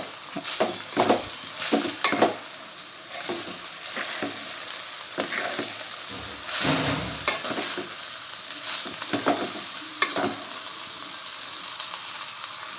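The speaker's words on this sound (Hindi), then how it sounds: "मैं इसे अच्छे से मिक्स करूँगी, हिलाऊँगी" Konkani shukri with poha being stirred and mixed in a pan, irregular scraping strokes of a spoon against the metal over a soft steady sizzle, close and fairly loud with no talking.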